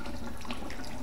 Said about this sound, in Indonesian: tangan kita tuh ditaruh di bawah keran, jadi dia langsung keluar air karena dia pakai sensor